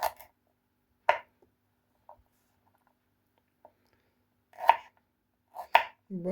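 Sparse, crisp knife cuts on a board slicing an onion into thin rings, a handful of separate chops with long quiet gaps between them.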